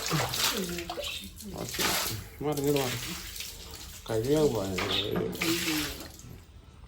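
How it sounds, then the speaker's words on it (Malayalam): Water is poured out for washing, with repeated splashing gushes that stop and start, heard close by while someone talks over them. "കുറച്ച് വെള്ളം കൊണ്ട് ഒഴിച്ചു കൊടുക്കുക"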